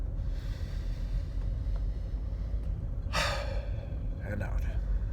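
A person takes one deep inhalation, a short breathy rush audible over a low, continuous rumbling background, followed by a fainter second breath moment later.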